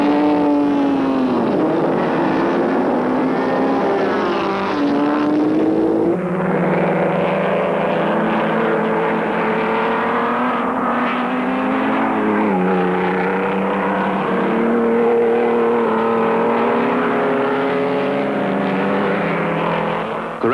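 1930s Monaco Grand Prix race cars, Mercedes and a new Alfa, roaring past with loud, sustained engine drone and shifting pitch as machines rev and pass through the street circuit, continuous and close for the whole stretch.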